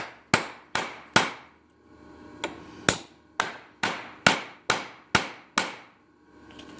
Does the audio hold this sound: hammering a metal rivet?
yes